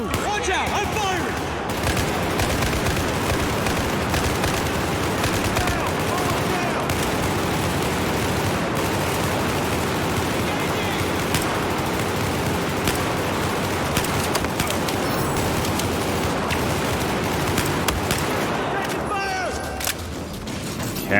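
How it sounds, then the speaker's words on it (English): Rapid gunfire fills a Battlefield 4 campaign firefight, dense automatic bursts and shots running continuously at close range with mechanical clatter, loud and sustained throughout. "Watch out! I'm firing!"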